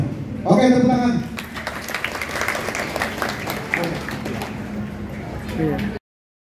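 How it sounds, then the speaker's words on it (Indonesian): Workshop participants clap in a room after a spoken exercise, a voice talking first and then scattered applause running for several seconds before cutting off abruptly. "Oke, tepuk tangan."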